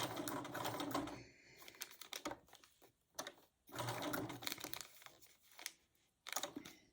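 A sewing machine stitches a Suzannah quilt block in close, rapid runs of needle chatter. Bursts of a second or two stop and restart between brief pauses.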